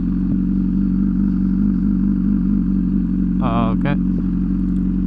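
An MV Agusta SV 1000 motorcycle rides along with a steady, close engine drone, briefly punctuated by a short rising warble, with no talking.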